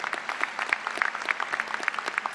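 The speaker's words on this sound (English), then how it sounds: "I think that's worth applauding." A commencement audience at a university business administration ceremony claps together, a dense, even patter of many hands lasting a couple of seconds, fairly distant in a large hall.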